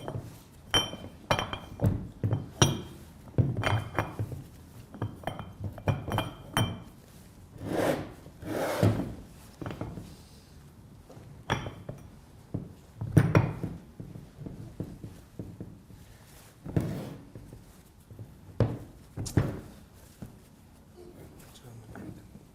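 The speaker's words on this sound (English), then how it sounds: "In this position, we will screw the lock nut." A lock nut screwed into position on the end of a rotor, heard as irregular close metallic rubbing, scraping and clinking bursts separated by short pauses, with a voice speaking intermittently.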